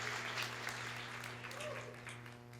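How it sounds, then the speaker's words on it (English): An audience at a police-community relations awards ceremony applauds its 2021 award recipients, a soft, distant patter of many hands clapping steadily over a low room hum before fading slightly. "Let's have a round of applause for our 2021 awards recipients"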